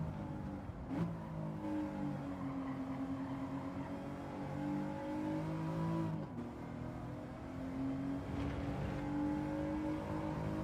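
A car in the Gran Turismo 7 racing game revs and pulls through its gears, a continuous engine whine rising in pitch with two brief shift dips, steady and moderately quiet, with no talk.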